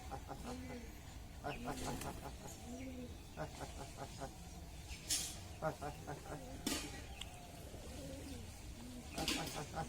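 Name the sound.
pigeon cooing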